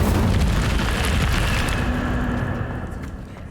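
Incendio fire spell cast in Hogwarts Legacy, a loud fiery whoosh and burst with a rumbling, crackling roar that gradually fades over a few seconds.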